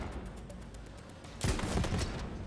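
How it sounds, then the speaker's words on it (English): A shotgun fires in the video game Borderlands 3: one sudden loud blast cracks out after a quiet stretch and rings briefly over low game ambience. "This is a shotgun."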